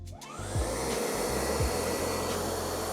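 DeWALT battery-powered saw cutting wood straight through a knot, a loud continuous motor whine and cutting roar held steady for about three seconds close to the listener.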